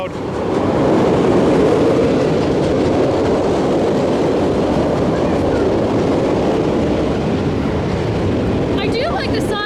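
Loud, continuous roar and rumble of an amusement park ride rushing past at Cliff's Amusement Park in Albuquerque, New Mexico, with rattling clatter throughout and faint crowd noise, drowning out everything else.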